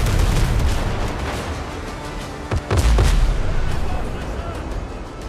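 Ship cannons fire in a naval battle in the Windrose video game, heavy booming blasts with dense rumbling gunfire running through the clip and a sharp burst near the middle.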